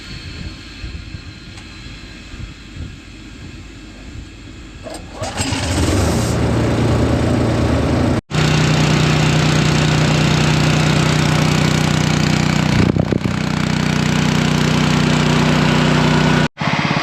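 A farm vehicle's engine at a Western Australian barley harvest starts about five seconds in and settles into a loud, steady idle to prime the brake air, with a steady hum running beneath and brief cutouts partway through.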